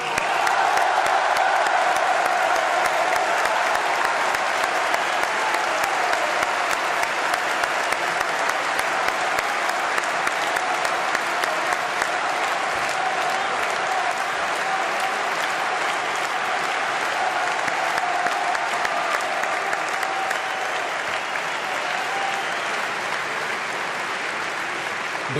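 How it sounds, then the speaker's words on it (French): Sustained, dense applause from a large political rally crowd fills the whole stretch, steady and loud with scattered cheers, no voice on top. "nous applaudissions Sarah Knafo"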